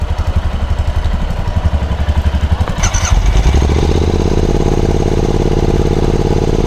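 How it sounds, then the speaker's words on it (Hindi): A Royal Enfield Scram 411 motorcycle engine cold-starts at high altitude, cranking with a rhythmic, chugging turnover, then catches and settles into a loud, steady idle close by. "अपनी बाइक पे भी कर देते हैं थोड़ा सा कोल्ड स्टार्ट।"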